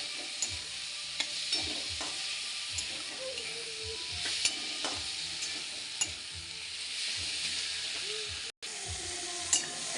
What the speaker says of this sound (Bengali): এটা একটু ভাজতে থাকবো।